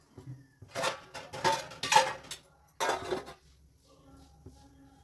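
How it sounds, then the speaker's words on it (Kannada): Metal pots and utensils clank and scrape in short bursts as a pressure cooker is set down on the stove, then things go quiet. "ಕುಕ್ಕರ್ ಇಟ್ಟಿದ್ದೀನಿ"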